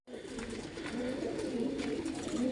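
Domestic pigeons coo continuously at close range, a low, rolling, overlapping murmur from a flock of about two dozen birds kept in a coop, steady throughout with no talking.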